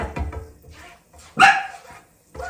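A dog barks indoors in a home kitchen, one loud close bark among quieter household noises.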